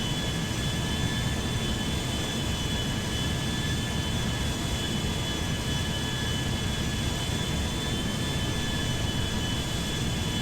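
Boeing 737 MAX-9 in the GTA 5 video game taxiing toward the gate, a steady broadband jet engine roar with a faint high whine holding constant throughout, loud and without talk.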